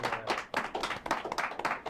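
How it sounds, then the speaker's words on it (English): Parents at a school event applaud fourth graders after their reading performance, a steady burst of close clapping from a small audience with no talk over it. "parents, why don't you applaud for them?"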